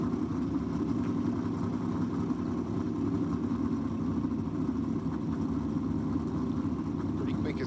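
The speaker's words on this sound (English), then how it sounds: "it's got a really nice note to it, that car of Adriana McCaskill's" A race car with a roughly 600-cubic-inch big block Chevrolet engine at a drag racing championship meeting gives off a loud, steady, unbroken engine drone that holds at one level throughout.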